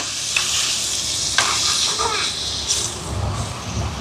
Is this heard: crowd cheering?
no